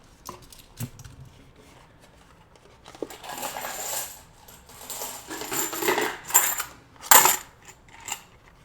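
Coins clink and jingle nearby while they are handled, with scattered light taps building into clusters of metallic rattling and a sharp bright drop near the end.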